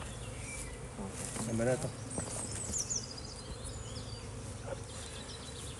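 Honeybees swarm around a newly installed backyard hive, giving a steady close buzzing hum with individual bees droning past the microphone. A person speaks briefly over the buzzing, and outdoor birdsong is heard faintly.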